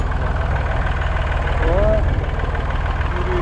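Steady tractor engine idling or chugging at close range during an off-road mountain outing, a continuous low rumble throughout with a brief higher whine partway through.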